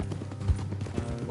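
Horse hooves clip-clopping along a road in the video game Red Dead Redemption 2, a steady close patter under continuous game ambience.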